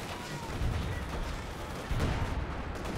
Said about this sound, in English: I would like some artillery support, please!